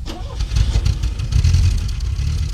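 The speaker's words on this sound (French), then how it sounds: "le bruit du moteur, on sent que le bruit est rond et doux, paisible même presque" A fuel-injected Peugeot 504 Coupé engine runs nearby with a deep, round, rumbling tone that swells gently, as if lightly revved, and stays steady throughout.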